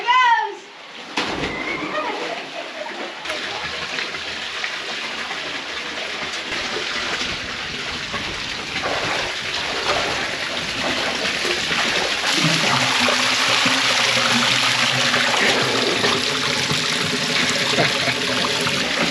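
Rushing water from a waterfall pouring into a deep pool in a slot canyon, a broad continuous hiss that builds louder as it nears, with brief voices at the start.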